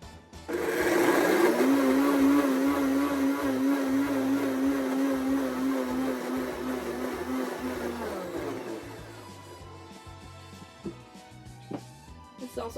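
A blender runs loud and steady for about eight seconds while mixing chocolate pots de crème made to a 1960s recipe, its whine holding an even pitch before cutting off and leaving quiet room noise and a few small clicks.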